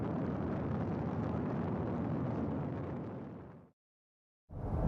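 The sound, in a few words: SpaceX Falcon 9 rocket launch from Kennedy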